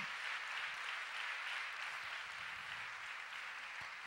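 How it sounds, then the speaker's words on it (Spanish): A church congregation gives sustained applause during a worship service, heard faint and distant as a steady, even wash of clapping. "Un aplauso fuerte al Señor en el nombre de Jesús."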